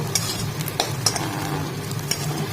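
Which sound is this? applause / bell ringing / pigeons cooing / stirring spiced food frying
stirring spiced food frying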